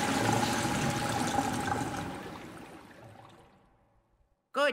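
Water flowing again in the video game Luigi's Mansion 3: a loud rushing gush that gradually tapers off to near silence, followed by a short tonal chirp at the very end.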